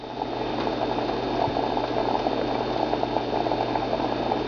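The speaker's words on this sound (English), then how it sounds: "right now it's almost to a rolling boil" Water in a pot for rice nears a rolling boil on high heat, a steady close bubbling and churning with a low hum beneath, continuous and alone.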